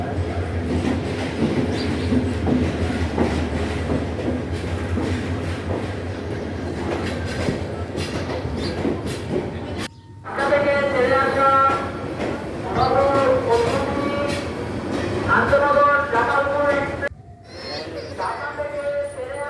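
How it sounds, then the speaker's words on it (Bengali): A train pulls into a busy station platform, a steady loud rumble of rail cars and clacking wheels filling the scene, with people talking over it in the later part. "এই যে আমাদের ট্রেন চলে এসেছে।"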